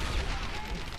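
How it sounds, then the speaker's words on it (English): A big explosion in the World War II shooter game Medal of Honor: Airborne, during an Operation Market Garden battle: a dense, roaring blast that rumbles steadily through the whole short moment, mixed with surrounding gunfire. "big old explosion right there"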